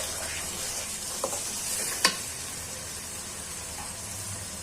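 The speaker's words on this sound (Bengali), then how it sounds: "মটরশুঁটিটা আগে দিচ্ছি ভাজা হওয়ার জন্য।" Green peas frying in a pan with onions already fried red make a steady, close sizzle, broken by a couple of brief clinks of a utensil against the pan.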